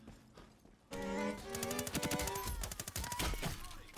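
Rapid gunfire in the shooter video game Ironsight bursts out after a quiet second. Closely spaced shots rattle on in an automatic stream of sharp cracks, loud and close, with no talk.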